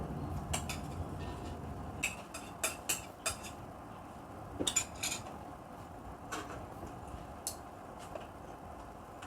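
Boiled vermicelli mixed with condiments in a bowl: faint clinks and taps of a utensil against the dish come at irregular intervals over a quiet kitchen background, with no talking.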